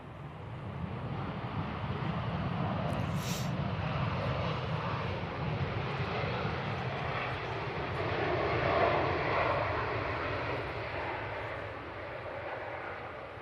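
A fixed-wing airliner landing at Manchester Airport, a steady loud engine roar heard from a distance with wind buffeting the microphone throughout.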